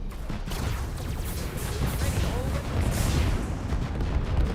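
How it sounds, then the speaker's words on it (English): Torpedo explosions in the space strategy video game AI War 2 form a dense, continuous barrage of deep rumbling booms and crackling blasts, steady and loud throughout with no clear pauses. "Liking the constant explosions of my torpedoes"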